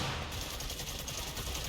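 Dense, continuous automatic gunfire in a wave-based shooter on a higher difficulty, loud and close, with shots running together into a steady roar for the whole stretch and no talking.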